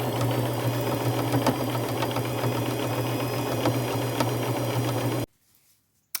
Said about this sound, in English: I'll just run a straight stitch all the way down the side